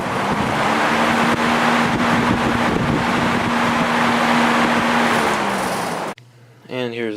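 A Lakewood HV electric fan spins up to high speed with a loud, continuous whooshing roar and a steady motor hum. The sound cuts off abruptly, and a voice speaks briefly afterward.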